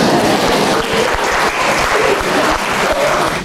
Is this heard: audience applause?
yes